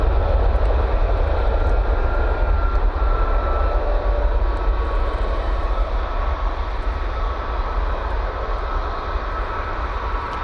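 An airliner taking off from Manchester Airport bound for Palma de Mallorca, its sustained deep engine roar steady and fairly loud, easing slightly toward the end.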